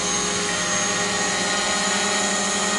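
A DJI Mavic Pro drone flies nearby, giving off a steady, loud broadband whine and buzz from its propellers that holds level without a break for the whole stretch and carries no speech.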